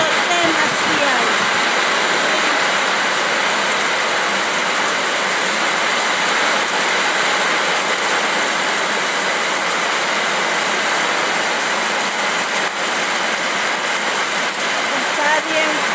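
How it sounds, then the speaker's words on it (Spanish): Heavy rain and strong wind pour down in a steady, loud, unbroken roar that fills the whole stretch with no pauses. "Está bien fuerte el aire y la lluvia"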